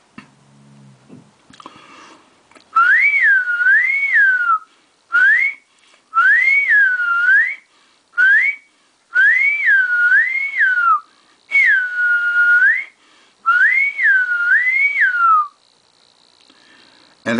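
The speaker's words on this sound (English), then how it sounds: "the easiest way is just to whistle" A person whistles a wavering, up-and-down melodic phrase, repeated in about seven loud, close bursts separated by short pauses, demonstrating a simple way to voice words.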